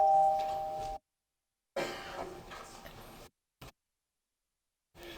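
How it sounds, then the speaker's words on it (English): Voting chimes ring out in a state House legislative chamber, a few bright tones in short bursts split by silent gaps, close and clear with no talk. "Clerk will sound the chimes."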